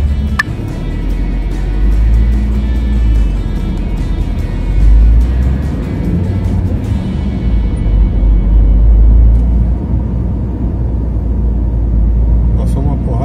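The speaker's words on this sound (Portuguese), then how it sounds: "Passou uma porrada de carro." Many cars pass by on a road on the way to Rio de Janeiro, a continuous loud low rumble of traffic with repeated passing swells, under talk.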